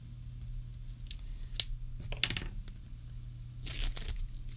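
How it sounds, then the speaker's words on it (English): Plastic wrap is peeled off an oracle card deck in a quiet room, with sharp crinkles and snips in short bursts, the loudest near the end, over a low steady hum. "Let's get the plastic off."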